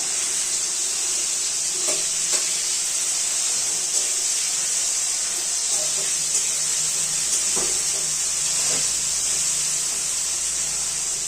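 Steady, bright sizzling of chopped tomato frying in hot oil, with occasional sharp pops and crackles over a constant hiss.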